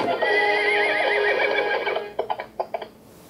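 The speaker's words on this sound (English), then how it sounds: "And exciting clip-clop action." A Fisher-Price Disney Princess Klip Klop Stable toy gives a loud electronic horse whinny, followed by a quick run of about six crisp clip-clop hoofbeats before it stops.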